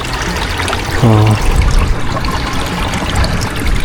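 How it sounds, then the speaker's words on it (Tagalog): Water trickles and dribbles steadily out of a hole, a close, continuous splashing pour, interrupted briefly by a short voiced exclamation. "tumatagas na yung tubig dito"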